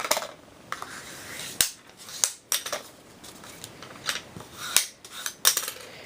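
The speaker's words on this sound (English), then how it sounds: "I'm going to be folding this in half using my bone folder." Card paper folded in half and creased with a bone folder while a friendship card is assembled, giving a series of sharp, close dry snaps and scrapes, about eight crisp strokes with quiet gaps between them.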